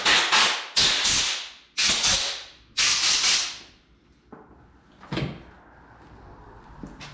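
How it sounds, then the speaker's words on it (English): Compressed air blasts through a cleaned Honda GX series small-engine carburetor: four loud, hissing bursts about a second each in quick succession, followed by a few faint clicks and shorter softer puffs. "It's always a good idea to hit it with some compressed air."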